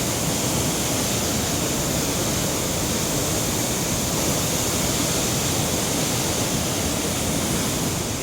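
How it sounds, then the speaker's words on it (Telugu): Water pours through a dam gate in a loud, steady, unbroken roar that holds close and constant throughout, with no voices over it. "వాటర్ ఎంత ఫ్లో అవుతుందో మీకు చూపిస్తాను, చూడండి."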